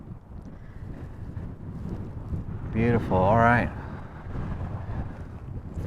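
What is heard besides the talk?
wind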